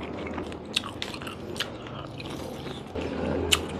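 Corn on the cob is bitten and chewed during a seafood boil eating session with giant prawns, lobster and mud crab. The bites are close and crunchy, with a few sharp snaps over a steady wet chewing background.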